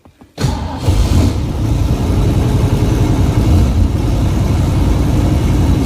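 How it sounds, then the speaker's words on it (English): A muscle car engine cold-starts with a sharp crank and catch, then settles into a loud, steady, rumbling fast idle heard up close. "I'm going to start this video out by doing a cold engine start"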